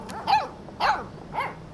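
Mushroom, the puppy in Life is Strange 2, gives three separate barks about half a second apart. They sound close and fairly loud, with no talk over them.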